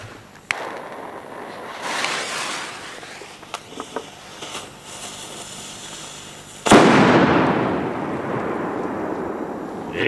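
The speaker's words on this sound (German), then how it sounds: "Bomber Boom, ich meine, das ist vom Bomber Shop, ein eigener Böller." A Bomber Boom firecracker from the Bomber Shop explodes outdoors, first with a few sharp pops and crackles, then one loud, close blast whose roar decays over several seconds.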